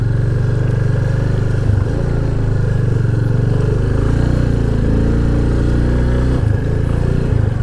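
A motorcycle rides over a rough, unfinished road toward Parbat, Nepal, past standing water. Its engine drones loud and steady throughout, with low rumble and no talk.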